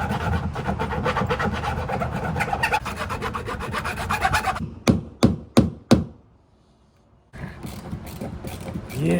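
A file or rasp scrapes a deep groove into the notch of a rusty, badly seized bolt on a Carolina Skiff J14: quick rhythmic rasping strokes, then several separate harder scrapes and a brief silence before the rasping resumes, close and loud.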